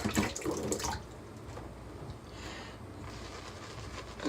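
Water splashes and trickles onto a tallow-based Arko shaving soap, starting with a louder pour that settles into a soft, steady running-water hiss, close by with no talking.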